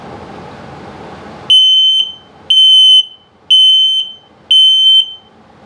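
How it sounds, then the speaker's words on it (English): An RV CO/LP detector sounds its low battery alarm: four loud, piercing electronic beeps, each about half a second long, spaced evenly about a second apart in a quiet interior. "and then low battery alarm"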